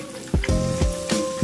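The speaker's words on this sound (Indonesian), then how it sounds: "Lanjut goreng sebagiannya lagi atau sisanya." Fish frying in hot oil sizzles steadily in a pan, with a few sharper crackles and spatters as pieces are moved, no voices.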